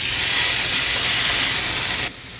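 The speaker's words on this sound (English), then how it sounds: "We're gonna take our steak and place it into the pan." A steak sizzles in a hot pan as a loud, steady broadband hiss that suddenly drops off near the end.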